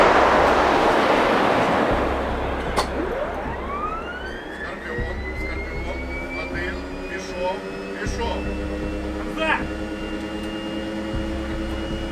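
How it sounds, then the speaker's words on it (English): A tank autoloader's mechanical whine rises steadily in pitch with a few sharp metallic clanks, all over a constant low engine rumble after a loud cannon blast. "You can hear the clank and hum of the autoloader in action."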